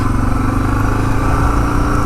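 A Suzuki DR650 dual sport motorcycle engine drones steadily and loudly while riding, a continuous rumbling single-cylinder throb that holds constant for the whole stretch, with no voices.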